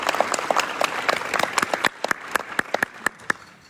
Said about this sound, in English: Would you please again give these teachers a round of applause?